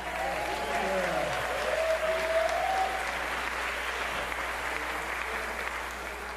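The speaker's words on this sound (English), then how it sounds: "Give it up for Kyle doing the sound." Sustained applause from a concert audience at a synagogue performance, steady and dense throughout, with a brief voice rising above the crowd near the start.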